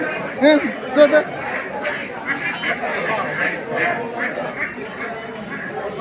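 Ducks quack a few times at a busy Assamese village market, Kaplabari bazaar, with loud calls near the start and then a steady hubbub of crowd chatter and talking voices.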